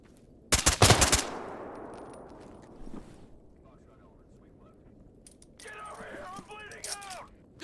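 Gunfire in the video game GAMMA: a sharp loud burst of shots near the start, then a quiet stretch and a faint later pop, with voices talking near the end.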